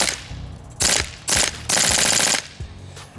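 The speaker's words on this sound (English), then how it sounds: "Now I'll show you a couple rounds shooting here" Daytona M246/MK.46 airsoft light machine gun with a heavy bolt firing loud, rapid full-auto bursts, several short strings and one longer burst, each crisp and close with a mechanical kick.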